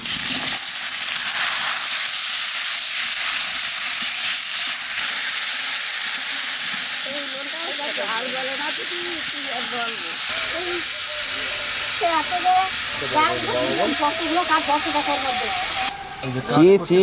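Green chillies and raw tomatoes fry in a pan for a Bengali small-fish curry, a steady loud sizzle and hiss throughout, with the sound of stirring and someone talking faintly underneath in the later part.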